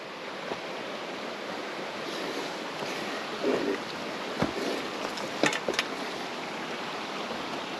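Creek water rushes in a steady broadband wash at a trail crossing on the East Fork of Rattlesnake Creek near Missoula, Montana, with a few brief knocks and splashes close by.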